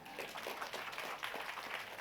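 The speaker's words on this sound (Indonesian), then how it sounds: "Tepuk tangan." Congregation applause during a church sermon, a faint, fairly distant stretch of scattered hand clapping lasting a couple of seconds without speech.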